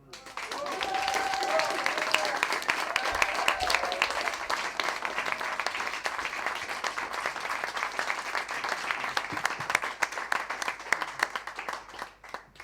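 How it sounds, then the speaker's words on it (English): Sustained applause from an audience after a talk on alternative media and the political left, a dense steady patter of many hands that holds for the whole stretch and fades slightly near the end. "The first minute for applause, and the second minute just to take in all that."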